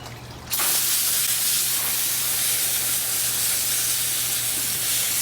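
Water jets from a homemade garden hose setup into a bucket with a hole in its bottom, where freshly harvested garlic is being rinsed of mud; a steady, close, loud hiss switches on after a brief pause and runs on unbroken.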